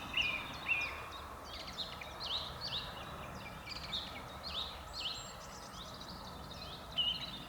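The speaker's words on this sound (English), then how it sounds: "At least the birds sing beautifully here." Faint birdsong in the distance beside a German railway line, repeated short chirps and whistled phrases over a quiet outdoor background.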